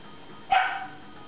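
A puppy gives a single short, sharp bark, close and clear against a quiet background.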